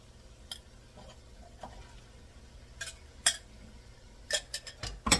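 Vegetables go into browned meat in a soup pot, giving scattered sharp clinks and scrapes of a utensil against the pot over a faint low background hum, with a cluster of quick knocks near the end.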